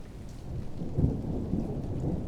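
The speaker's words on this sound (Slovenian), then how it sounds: "Zaslišal je dež, ki je začel kapljati po stenah." Thunder rumbles low and heavy through steady rain pattering on surfaces, a swelling roll peaking midway and fading out, with no voices.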